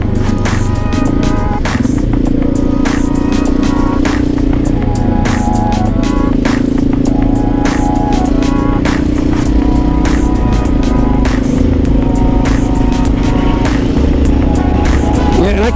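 Honda XR650L motorcycle single-cylinder engine with a restricted silencer tip on the exhaust, a steady, loud idling thump with occasional light revs throughout, recorded close up in cold weather.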